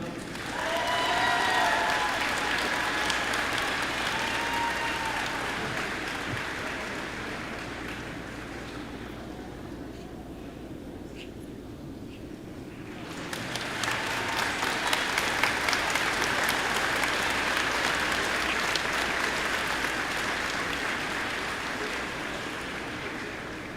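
An audience claps at a 2024 graduation ceremony, with dense, sustained applause that thins out for a few seconds and then swells again. Faint voices sit underneath.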